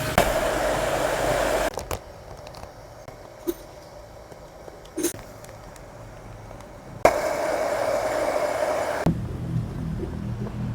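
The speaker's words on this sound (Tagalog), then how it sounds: "May blower naman tayo." Hot air blower heating a vinyl sticker being applied to a Suzuki Smash motorcycle headlight cowling, a steady loud whoosh switched on for long stretches and cut off in between, with faint handling noises during the pauses.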